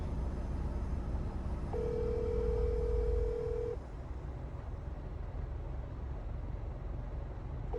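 A single steady ringback tone from an unanswered outgoing phone call, holding for about two seconds before stopping, heard over a low constant background hum with no talking.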